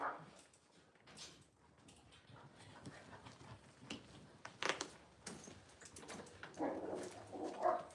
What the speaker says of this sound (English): Dogs are having a hell of a time out there.